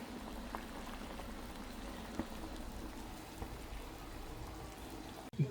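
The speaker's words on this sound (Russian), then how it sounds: "Ну, естественно, варятся яйца." Eggs boil in a pot of water on a kitchen stove, a steady soft bubbling and rolling simmer that carries on evenly throughout, close by and fairly quiet, with no one speaking.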